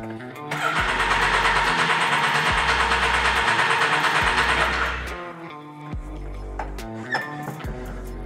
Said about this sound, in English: Once oil stops flowing, we're going to complete a 5-second drown mode cycle.